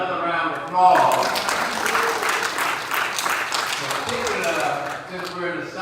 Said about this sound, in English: Let's give the mayor another round of applause.